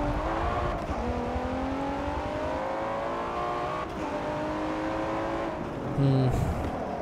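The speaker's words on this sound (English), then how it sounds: "I don't know how I like the sound of this car." A Liberty Walk Nissan GT-R with all-wheel drive races in Forza 7, its engine droning loud and close and climbing through the revs with gear shifts, then a short squeal or bark near the end.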